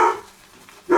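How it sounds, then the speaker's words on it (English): A dog barks twice, close and loud, one sharp bark at the start and another at the end, separated by a brief quiet gap. "That certainly don't help when you're shaving with your dog barking like that."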